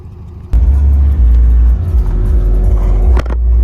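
A car fitted with a hood dump pulls away, its engine rumbling loudly and droning close by under steady acceleration, with a sharp whoosh near the end as the throttle changes.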